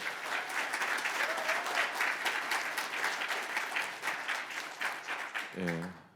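An audience applauds at a copyright law amendment support event, a steady, full round of clapping from many hands sustained throughout, with a brief voice near the end.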